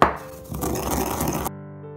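Ingredients are ground coarsely by hand in the traditional way for Dogri oria, giving a close, gritty crunching and scraping that lasts about a second and a half before it stops abruptly.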